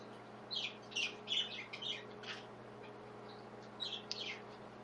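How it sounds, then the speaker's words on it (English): A bird chirps in the background of a quiet indoor room, a few bursts of short bright tweets and squawks, faint and somewhat distant. "The bird in the back is making me jealous."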